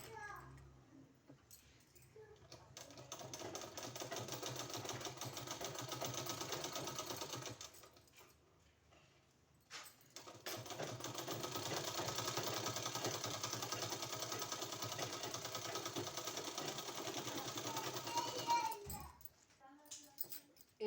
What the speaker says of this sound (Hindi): इसमें हमको सिलाई लगा देना है इस तरह से